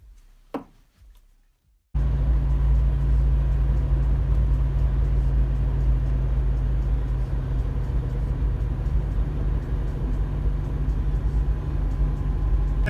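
A ZAZ Tavria 1102 (Slavuta) car driving on an icy road, a steady low engine and road drone that starts abruptly after a brief handling noise and holds constant, loud and close.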